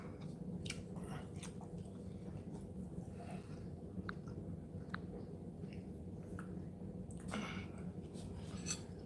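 Someone eating food doused in Lola's Scorpion hot sauce, with faint close chewing, soft bites and occasional light clicks of cutlery or dishes over a low steady background hum.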